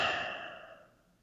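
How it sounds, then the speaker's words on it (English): A single slow, deep exhale of breath, close and soft, fading gradually over about a second. "just deep breathing."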